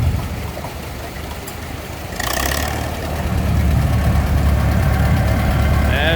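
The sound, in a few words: old gas tractor engine running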